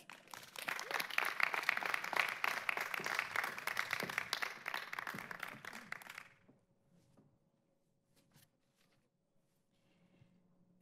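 A commencement audience applauds to welcome a student speaker, with dense clapping for about six seconds before it fades to near silence.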